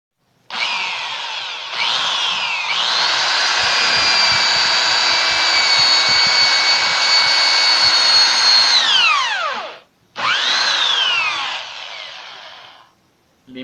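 A power drill with a bit boring through a wooden batten for a table build: a loud, close, high whine that holds steady for several seconds, dips as the bit slows, then briefly revs again.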